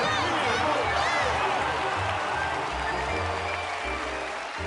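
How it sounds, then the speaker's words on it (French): Cartoon audience applauding the winner of a dog contest, a dense wash of clapping and crowd noise with a voice talking over it throughout. "Applaudissez bien fort l'incomparable Ravageur, le vainqueur du grand concours canin de Bois Hollywood de cette année."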